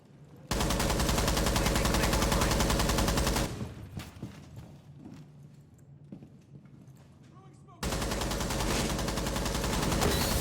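Rapid gunfire, likely from a video game, comes as two long loud sustained bursts of automatic shots separated by a quieter stretch of scattered thuds and game noise, with speech over it.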